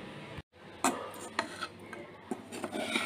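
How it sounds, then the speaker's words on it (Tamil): A spoon stirs cooked rice mixed with raw mango thokku in a metal vessel, giving soft scraping and a few light clinks of metal against the pot, close and quiet, with short pauses between strokes. "சாதம் கிளறி எடுத்துகிட்ருக்கோம்"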